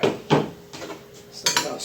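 A few scraping clinks of a utensil against a bowl of ceviche, stirring in short bursts with brief pauses between.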